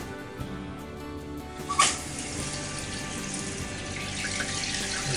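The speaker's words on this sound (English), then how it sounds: "You can hear the water coming in." Water flows into a toilet tank through a newly installed fill valve, making a steady, moderately quiet hiss with a brief splashy surge early on that continues throughout.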